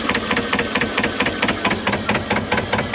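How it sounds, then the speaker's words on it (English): A vintage Lister narrowboat engine chugs loudly nearby on a river, a fast, even knocking beat that repeats without pause. "I can't hear myself think with this engine on."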